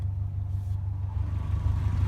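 A 1992 Subaru Legacy rally car engine idles steadily with a deep, continuous low rumble, no revving, close by.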